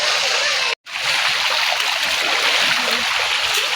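A tropical waterfall rushes in a constant broad wash of water, steady and fairly loud, broken only by a brief dropout near the start.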